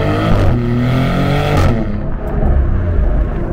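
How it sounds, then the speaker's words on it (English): A 2023 Maserati GranTurismo accelerates hard, its engine revving up with rising harmonic tones, a brief shift break, then roaring on again, loud and close. "being on throttle and upshifting and hearing that loud pop that it gives you"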